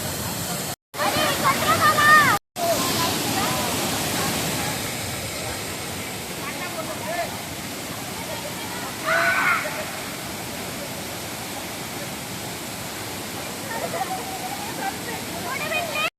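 The Sawadav waterfall in Konkan roars as a steady broadband wash throughout, with brief dropouts early on and voices talking faintly over the water in places.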